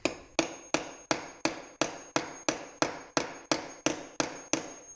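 A stainless steel Corona 3354 weeder blade is hammered flat with about fourteen evenly spaced, ringing metallic strikes, each with a bright ping that decays before the next blow.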